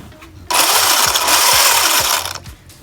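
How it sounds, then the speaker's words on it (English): Electric motor of a Wltoys 12423 RC car revving at full throttle while flipped upside down, a loud high whine that starts abruptly, holds for about two seconds, then drops away. "Hit the throttle while it's upside down."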